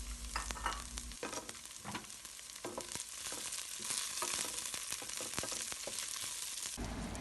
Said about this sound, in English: Next add the green chili and saute it well